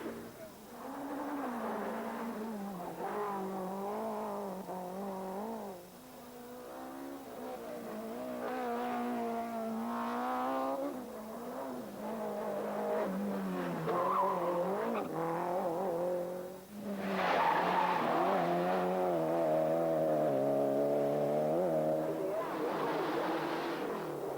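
Lancia Delta rally cars race on a track, engines revving and shifting through rising and falling tones, with a louder nearby burst of acceleration late on, heard under continuous commentary.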